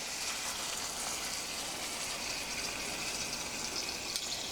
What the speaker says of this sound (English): I like to put just a little bit of water in my jar here, just to rinse everything out